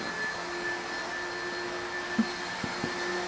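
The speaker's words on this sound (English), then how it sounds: "Did you hear the vacuum?" A steady, low-level vacuum cleaner hum runs throughout with a faint whine, broken by a few soft knocks near the end.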